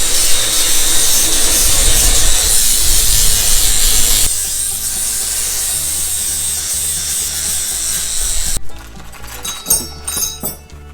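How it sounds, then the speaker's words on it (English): An angle grinder working metal on an extreme rock crawler build: a loud, continuous harsh grinding roar that drops in pitch and load partway through, then cuts off into scattered clattering and knocks. "Here we turn pop loose with a grinder."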